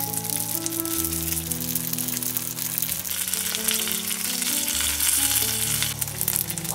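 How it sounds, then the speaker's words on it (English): Chive cake pan-frying in oil gives a steady, moderately loud sizzle and crackle throughout, with a faint background hum and no talking. "Now I'm going to pan fry the chive cake."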